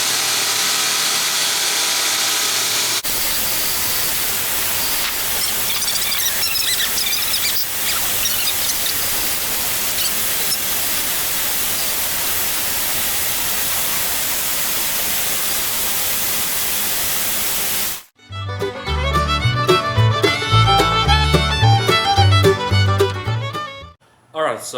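Power tool grinding to profile a steel hatchet head, a loud, continuous, hissing abrasive roar held for most of the stretch, then giving way to clanking mechanical rattles.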